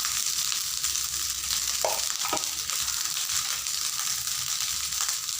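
Leftover cooked rice frying in a pan with salt, a steady bright sizzle throughout, broken by a couple of quick scraping stirs of the spoon.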